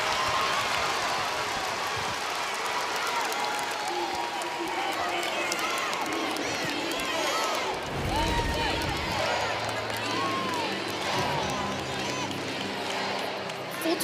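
A crowd at a Georgia gymnastics meet against Florida roars in a sustained wash of cheering and applause under a commentator's voice, with a brief louder surge partway through.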